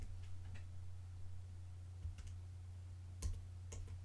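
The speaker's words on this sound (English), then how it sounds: "I'm going to type in my additional words, and that is, I'm typing in" A few sparse, soft clicks of keys being pressed, irregular and quiet against a low steady hum, with long gaps between taps.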